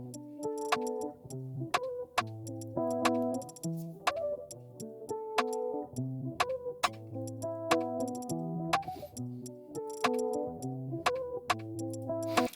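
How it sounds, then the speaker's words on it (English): Afroswing drum beat with a programmed hi-hat pattern, crisp repeated ticks riding over bouncy melodic and bass parts in a steady syncopated groove, loud and up front throughout. "the hi-hat just basically sounds like this"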